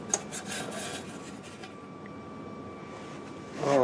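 Finger-tightened screws are worked loose by hand on the back cover of a Motorola VT-71 set, giving faint scraping and rubbing in quiet close-up, with a few light knocks and a louder shuffle at the end.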